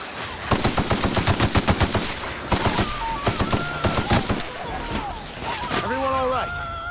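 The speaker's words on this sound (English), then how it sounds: "Yeah, they're shooting at me." Rapid automatic gunfire in The Outer Worlds video game: loud, repeated bursts of shots in quick rhythmic volleys, pausing briefly between strings, followed by a few whirring, wavering sci-fi weapon sounds at the end.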